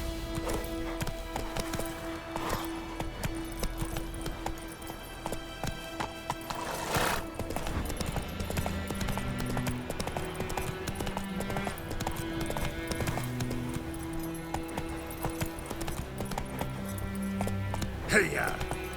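Hooves of a horse drum at a steady gallop in The Witcher 3 video game, under a constant bed of game music and ambience, with a faint whinny and a voice speaking.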